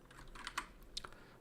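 Quick, faint clicking keystrokes on a mechanical computer keyboard, a few scattered taps in a short burst, heard alone.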